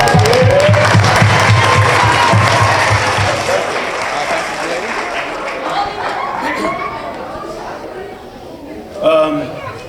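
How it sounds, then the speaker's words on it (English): Loud crowd applause and cheering with chatter mixed in, dense clapping that gradually eases and gives way to talking and a brief late burst of voices. "Clap it up, all, clap it up"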